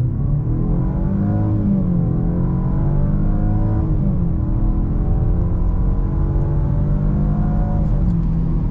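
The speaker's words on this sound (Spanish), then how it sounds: "El carro acelera bien" A 2021 Jaguar XF P300 R-Dynamic AWD accelerates at full throttle, its engine note rising steadily through the gears with a brief dip at each shift, loud and continuous from inside the cabin.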